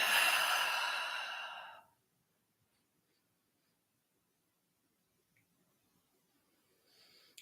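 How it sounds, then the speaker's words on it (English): A long, breathy exhale during a guided breathing exercise, loud and close for about two seconds before fading into near silence, with a faint rustle near the end. "Keep holding that. Exhale out."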